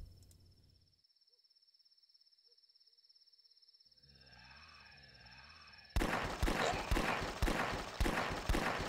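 Rapid gunfire from The Last Stand, a flash zombie game, arrives after several seconds of near silence and a faint high tone, then repeats in loud, evenly spaced bursts to the end.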